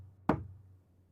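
One sharp knock on a wall in an anime, a single close, hollow rap that dies away quickly into quiet.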